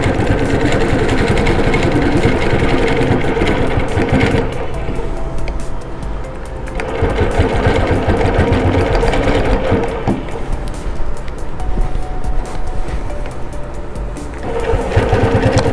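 Longarm quilting machine stitching around the outer edge of a hand-pieced Psychedelia quilt with bulky seams, giving a steady loud mechanical whir that runs throughout with slight pauses and changes in pace.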